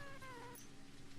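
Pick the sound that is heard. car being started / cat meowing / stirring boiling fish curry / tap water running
cat meowing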